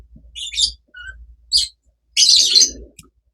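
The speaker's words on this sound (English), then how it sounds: "those are my birds in the background. My little lovebirds are chatting about." Pet lovebirds chatter in short bursts of bright chirps and tweets, a few separate calls and then a denser, louder flurry, heard close by with no talk.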